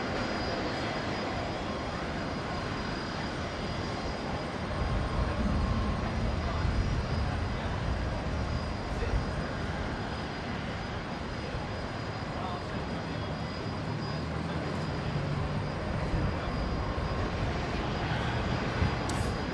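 Virgin Australia airliner, flight 321 from Melbourne, touching down on runway 19 left at Brisbane International Airport in a strong crosswind, a steady broadband engine and wind roar lasting throughout, swelling slightly midway, with voices talking over it.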